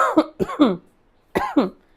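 A person coughs three times in quick succession, then pauses and gives two more coughs, close and fairly loud with no talk.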